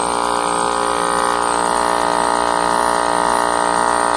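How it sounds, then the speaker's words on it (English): The compressor of a Trane package heat pump runs loudly and continuously, a dense steady mechanical drone with a tonal hum and buzzing overtones, with no pauses. "Y'all can hear how loud that compressor is."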